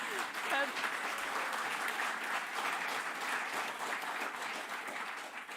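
Audience at a symposium unconference session applauds steadily, a dense sustained clapping from many hands that fills the whole stretch at an even level without pausing.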